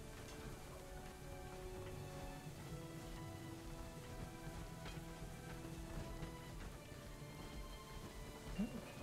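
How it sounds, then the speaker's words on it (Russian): Hail falls in the video game Rise to Ruins. A faint, steady patter of pelting stones with scattered sharper ticks continues throughout, with low rumbling underneath. "Да, я понял, это не шторм, а просто град, от которого бегают в шоке люди наши."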